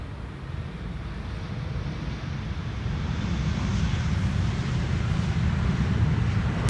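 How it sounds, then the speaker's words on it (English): A KLM Boeing 777-200, eighteen years old, lands at Schiphol on the Polderbaan runway. Its engine roar is steady and broadband, heavy in the lows, and swells slightly as it goes on, with wind buffeting the microphone and no talk. "Typical KLM style landing, keeping up the speed so that they can vacate late and be sooner to the gate."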